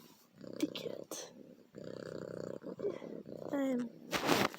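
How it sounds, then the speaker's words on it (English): A house cat purrs in a steady low rumble, up close while being cuddled, with brief handling noises and a short burst of rustle near the end. "Hey, this is the cat."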